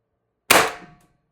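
A single close shot from a TR50 CO2 air rifle: one sharp, loud crack with a short hissing decay, preceded and followed by silence.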